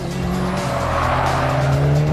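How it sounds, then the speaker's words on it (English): A Mitsubishi Lancer Evolution engine revs hard and steadily while the car accelerates out of a corner on a racetrack, loud and close, with tyre noise mixed in and no talk. "Terrific engine, really gutsy, really pulls me out of that corner there."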